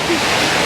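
Scott's Falls near Pictured Rocks, Michigan, a small waterfall about ten feet high dropping into a pool, heard as a brief, loud, steady rush of falling water close by.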